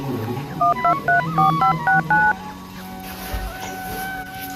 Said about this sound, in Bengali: ফোন করে ডেকে নিচ্ছি